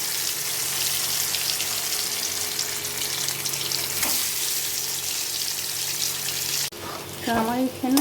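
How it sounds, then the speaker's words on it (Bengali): Boiled eggs and potatoes frying in hot oil give a continuous close sizzle that holds steady for most of the clip. Near the end it breaks into a brief clatter and some tonal, voice-like sounds. "এবার এগুলোকে তেলে হালকা করে ভেজে তুলে রাখবো।"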